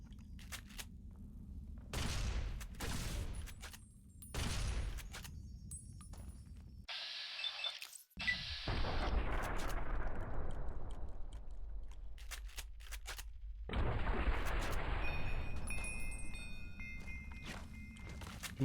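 Gunfire and combat from Fallout: New Vegas in the Old World Blues add-on: bursts of shots and impacts, a sharp blast around eight seconds, then sustained loud rumbling gunfire and effects filling most of the stretch.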